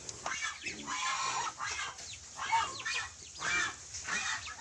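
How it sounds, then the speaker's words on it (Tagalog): Nine young pet ducks on a rural Philippine farm, quacking and chattering in repeated bursts close by, a busy rhythmic flock call with short pauses between outbursts and no talking. "ito naman yung ayan, yung mga alaga kong itik"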